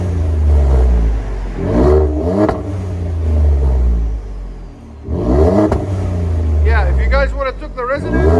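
Ford F-150 EcoBoost V6 with the resonator on, its exhaust giving deep rising revs in two bursts that swell and drop back to a rumbling idle, close and loud, with someone talking over the end.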